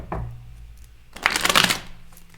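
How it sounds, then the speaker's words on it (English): A deck of cards being shuffled quickly, a brief soft riffle followed by a louder fluttering burst of card flicks, close and alone with no talk. "As I shuffle really quick."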